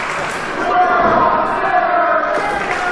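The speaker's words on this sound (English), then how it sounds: "are you hearing this crowd, church? They are chanting, "We're all sinners."" Wrestling crowd at an RWA Unleashed event chanting together in a loud, sustained roar of massed voices, with tonal chant lines running through the din.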